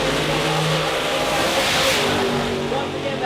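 A nitro-burning drag race car launches down the strip at Northstar Dragway, a loud, continuous, dense engine roar filling the whole clip without pause.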